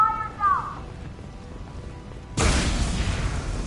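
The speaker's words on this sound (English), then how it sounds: "A pipe's exploding." A pipe bursts inside the Mass Effect Legendary Edition game world, a sudden loud blast that opens into a sustained hissing rush of released pressure, following a faint whooshing tone.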